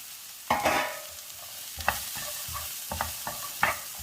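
Six chopped long beans stirred into a pan of turmeric powder sizzle as a spoon scrapes through them in several distinct strokes, close and fairly quiet, with no speech.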